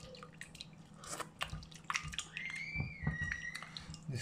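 Chunks of raw red tuna are stirred with salt in a bowl, giving wet squelching and dripping sounds with soft irregular clicks, close and quiet.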